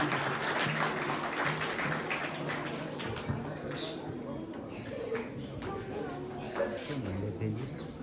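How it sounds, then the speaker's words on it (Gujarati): At a school birthday celebration where guests are honoured with bouquets and shawls, the audience breaks into steady, moderately loud clapping that fills the hall and runs throughout, with a voice over it. "આપણે સૌ તાળીઓના ગળગળાટ કરીને વધાવી લઈશું."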